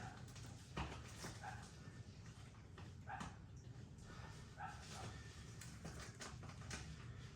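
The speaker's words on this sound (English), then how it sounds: "My dog's dreaming." A sleeping dog whimpers and gives soft muffled yips while dreaming, faint and intermittent over a low room background.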